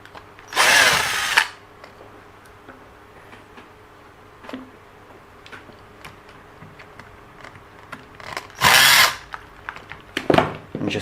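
A power tool whirring in two short, loud bursts as it undoes bolts on an EACHINE EAT04 RC car, with faint clicks and handling noises in the quiet between.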